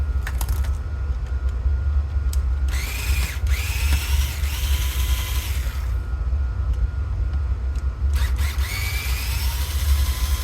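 A power driver unscrews the front brace of an XRAY XB2 RC car, with several short whirring bursts over a constant low hum of background machinery, heard close up with no talk.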